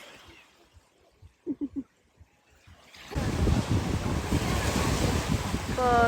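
Waves breaking at Odessa beach on the Black Sea, a steady loud surf wash with wind rumble, preceded by a few quiet seconds of faint sounds before the sea noise comes in.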